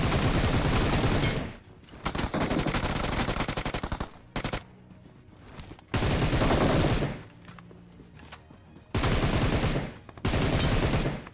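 Bursts of rapid close-range hipfire ring out in PUBG, loud sustained automatic volleys separated by short pauses.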